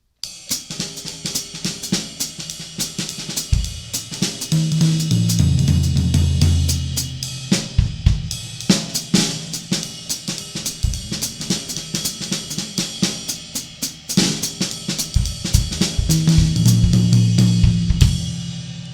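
A drum kit plays a loose, syncopated jazz groove with busy cymbals and scattered snare and kick accents, continuous and close, no voices.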